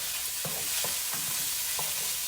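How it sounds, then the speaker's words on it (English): Beanie weenies brown in a skillet with a constant bright sizzle. A handful of soft spoon taps and scrapes sound at irregular intervals, close by and with no voices. "weenies are browning"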